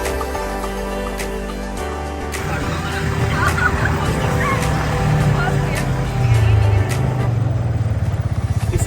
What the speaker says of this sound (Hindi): now let's go for ATV ride